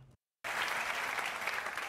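Audience applause breaks out after a brief silence, a dense, steady wash of many hands clapping that holds loud and even to the end, with no talk over it.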